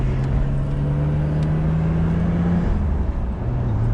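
Nissan Skyline R33 GT-R engine rounding a corner on a wet expressway, a steady, droning in-cabin hum that holds a note, then drops in pitch and picks up again, under road noise.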